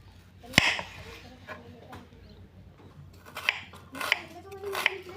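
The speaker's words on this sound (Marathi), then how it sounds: "कांदा मी बारीक चिरून घेते." An onion is chopped with a knife on a board, a few sharp distinct cuts spaced apart, one loud early strike then three quicker chops near the end, close and fairly quiet with soft background noise.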